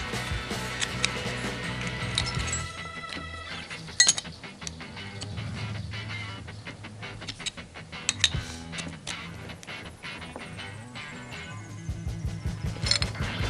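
Wrenches, a 9/16 open wrench and a 5/8 box wrench, tighten metal fittings on a retractable air hose reel, giving repeated close clinks, ratcheting clicks and metallic taps.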